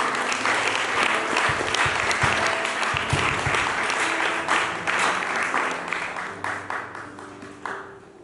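A church congregation applauds together, a dense, sustained wash of clapping that fills the space and gradually thins out toward the end, with faint voices mixed in.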